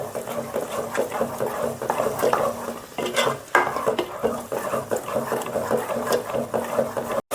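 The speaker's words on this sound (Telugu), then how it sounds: "మనం గ్రైండ్ చేసుకున్న టమాటా పేస్ట్ వేసుకొని ఇది కూడా అట్లాగే ఫ్రై చేసుకోవాలండి." Ground tomato paste fries in a pan for an Andhra fish curry, with steady sizzling under busy stirring, scraping and clinks of a utensil against the pan throughout.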